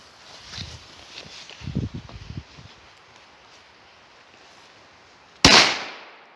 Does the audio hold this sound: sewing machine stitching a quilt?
no